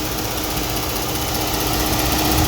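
A car engine runs steadily at idle under an open hood during wiring repair, a continuous close hum with a faint high buzz throughout.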